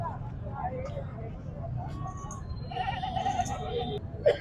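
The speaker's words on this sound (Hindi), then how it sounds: "पहले बकरी दिखा दूं" A goat bleats at a livestock market amid background chatter and vehicle noise, with a sharp, brief bleat rising near the end over ongoing voices.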